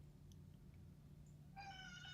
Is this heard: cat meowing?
yes